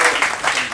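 A comedy show audience gives a brief burst of clapping that swells and dips within a second.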